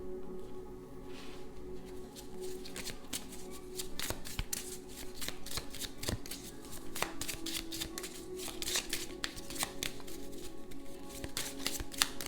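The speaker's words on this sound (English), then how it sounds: "We'll pull a couple of cards from Steampunk Keeper deck." A Steampunk Keeper tarot deck gets shuffled close by, with crisp riffling card flutters and sharp snaps and slides as cards are pulled, continuous and soft throughout.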